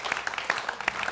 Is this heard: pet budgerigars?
no